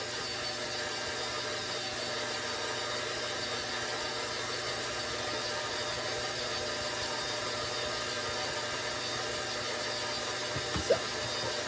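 A stand mixer runs on its lowest setting, kneading flour into cinnamon roll dough: a steady, even mechanical whir and gear rattle that holds constant throughout, close and alone, with one small knock near the end.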